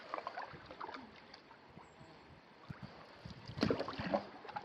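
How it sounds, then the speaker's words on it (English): A solo canoe glides across Snipe Lake through a narrow channel, with soft, irregular paddle strokes and gentle water splashes over light wind, growing a little louder near the end. "Paddling the infamously nice channel."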